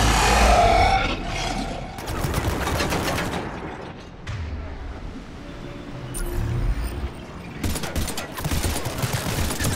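Bursts of game gunfire in a Mass Effect 3 combat scene, several sharp volleys early on and more shots returning near the end, with mechanical clatter and a low rumble between them.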